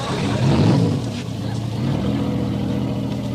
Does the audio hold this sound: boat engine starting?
yes